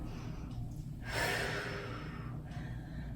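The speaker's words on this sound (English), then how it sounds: "Inhale and exhale." Breathing during a Pilates exercise, with a loud breath near the middle swelling and fading over about a second, set against a quiet steady background.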